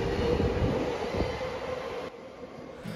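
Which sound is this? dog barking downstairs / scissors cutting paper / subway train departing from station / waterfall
subway train departing from station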